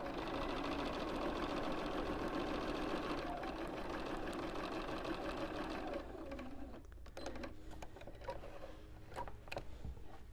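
Sewing machine stitching quilt pieces for an autumn postcard quilt, a steady loud mechanical whir that runs continuously for about six seconds, then slows into intermittent clicks and short bursts as the fabric is handled.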